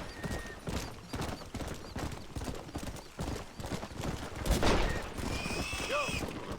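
Gunfire crackles in Red Dead Redemption amid steady horse hoofbeats, with sharp repeated shots mixed into the galloping clatter and a louder burst near the middle; a person talks faintly underneath.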